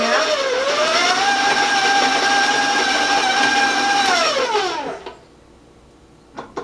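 Stand mixer with a paddle creaming butter and granulated sugar, a loud steady motor whine that ramps up, holds for several seconds, then winds down and stops, followed by a couple of faint clicks.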